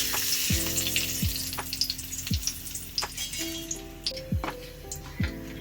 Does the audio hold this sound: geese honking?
no